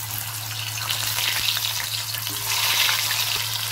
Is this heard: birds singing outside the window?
no